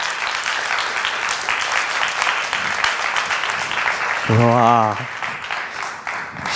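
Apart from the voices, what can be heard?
audience applause for Kasaki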